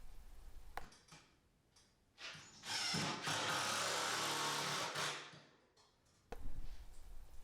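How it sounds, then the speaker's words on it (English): A power drill drives screws into 2x4 and 1x4 boards of a wooden workbench, with short bursts and then a steady whir of about two seconds, close and alone. "I'll just get everything lined up and then I can attach it with screws."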